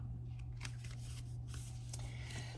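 Oracle cards being shuffled in a deck, soft papery riffles and slides in irregular bursts, faint over a steady low hum.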